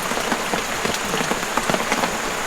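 Steady rain falls on a surface outdoors on a trip between Finch Hatton and Eungella, a dense, continuous patter of drops with small splashes scattered throughout and no voices.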